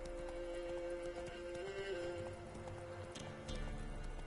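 Roach, the horse in the Witcher 3 video game, gallops with rapid, rhythmic hoof clip-clops under faint game ambience, with a brief whinny.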